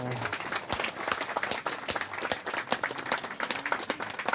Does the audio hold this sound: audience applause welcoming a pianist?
yes